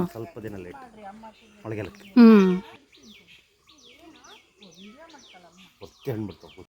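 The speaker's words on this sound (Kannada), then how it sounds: "ನೀವಲ್ಲಿ ಬ್ಯಾಕ್ಗ್ರೌಂಡಲ್ಲಿ ಸದ್ದು ಕೇಳ್ತಾ ಇದ್ರೆ ಪಕ್ಷಿಗಳು ಕೂಗೋದು ಎಷ್ಟು ನ್ಯಾಚುರಲ್" Soft bird chirps and calls sound in the background under nearby conversation by a jamun tree, with a loud high whistling squeak from a jamun-leaf whistle briefly standing out partway through.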